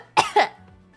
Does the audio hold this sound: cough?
yes